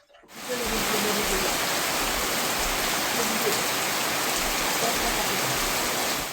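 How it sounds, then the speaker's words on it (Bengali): Heavy monsoon rain falls in the Sundarbans, a dense unbroken roar of water that rises quickly and stays loud and even throughout. "সুন্দরবনের বৃষ্টি, বিশেষ করে বর্ষার বৃষ্টি একেবারেই অন্যরকম। যেন আকাশ ফুটো হয়ে যায়, একটানা বৃষ্টি ঝরতে থাকে ঘন্টার পর ঘন্টা"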